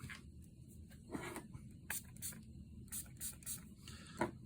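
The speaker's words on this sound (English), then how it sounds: "I'll just spray it." Short bursts of spray from a can being applied onto a piece of glass for a mixed-media art assemblage, several quiet hissing puffs in an otherwise still room.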